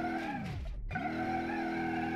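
A Honda Civic with VTEC drives in the BeamNG.drive video game, its engine note a steady harmonic whine that dips sharply as revs drop and shifts, then climbs back and holds, loud and close.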